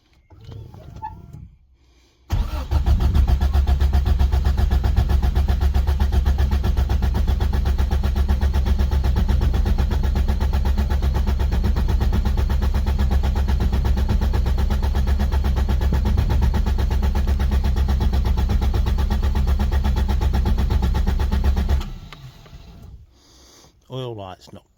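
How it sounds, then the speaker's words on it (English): A Toyota Starlet turbo engine, running with no injectors fitted, cranks over on the starter in one long continuous burst of about twenty seconds. The whirring is loud and close, then stops, with brief quiet before and after. "So I'm going to crank it now with no injectors."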